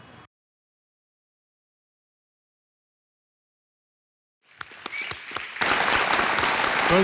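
After a long stretch of silence, a studio audience on the quiz show Kaun Banega Crorepati breaks into applause with a few scattered claps, then swells into full, loud, sustained clapping.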